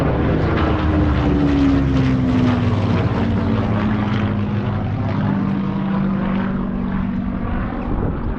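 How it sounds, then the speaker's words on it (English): A Spitfire propeller aircraft passes overhead beside a fishery, a loud, steady engine drone whose pitch slowly falls as it moves away, with no voices. "We can even watch Spitfires."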